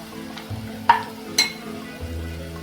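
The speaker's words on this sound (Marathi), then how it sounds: "ही सुद्धा आपण व्यवस्थित परतून घेणार आहोत" Homemade masala is sautéed in a pan for a prawn and okra curry, a quiet sizzle with a few light clinks and scrapes of a spoon against the metal.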